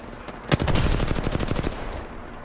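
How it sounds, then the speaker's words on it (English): A rapid automatic burst of enemy gunfire from a team in Apex Legends rattles for about a second, loud and evenly spaced, with sparse single shots before and after. "Because there's a team shooting from over there."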